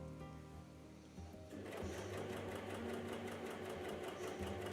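A sewing machine runs steadily over the seam of a knitted Christmas sweater, starting after a brief quieter moment and then holding a fast, even mechanical whir, close up and alone.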